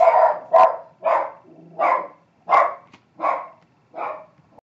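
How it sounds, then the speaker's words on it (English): A dog barks seven times in a steady, evenly spaced series, each bark loud and close with short quiet gaps between. "So that was an interesting message, whatever I said when he barked."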